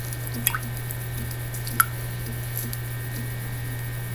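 Water drips from a tampon soaked in water: two sharp, close drops about a second apart, followed by fainter plops over a steady low hum, with no voices.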